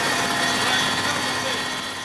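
A helicopter climbing at altitude, heard from inside the cabin as a steady, loud droning rumble with a constant engine whine, with no pauses.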